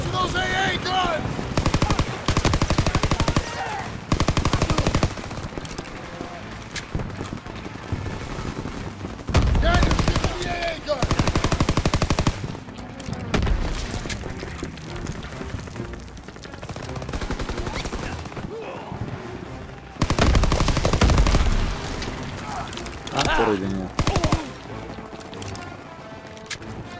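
Rapid bursts of machine-gun and rifle fire echo through a World War II battlefield in the Call of Duty WWII video game. Loud clusters of shots come in irregular waves across the whole stretch, with explosions and brief shouted voices mixed in.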